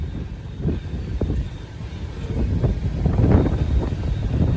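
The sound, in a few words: long freight train carrying steel coils passing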